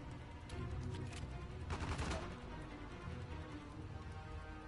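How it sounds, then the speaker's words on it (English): Rapid blind-fire gunshots in the Uncharted: The Lost Legacy video game, a dense burst of overlapping shots peaking midway over steady loud battle noise. "we're gonna have to blind fire"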